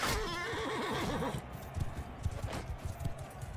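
A horse in Mount and Blade II: Bannerlord gives a loud whinny, then its hooves clop in a quick, uneven patter as the neigh fades into the galloping.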